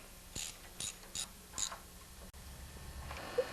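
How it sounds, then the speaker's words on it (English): A 1/2 inch socket wrench ratchets on a bolt on a Toro snowblower during an auger bushing repair, giving a few short separate clicking bursts at close range, then quieter handling noise. "I'll grab a 1/2" wrench and socket and tighten it up"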